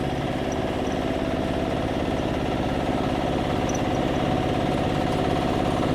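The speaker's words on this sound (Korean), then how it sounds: "경운기 엔진 소리 좋고 매연도 안 나오고 있습니다" A walking tractor's engine in high third gear at half throttle on a flat road chugs loudly and steadily nearby, a rhythmic low mechanical thrum with no noticeable rise in pitch.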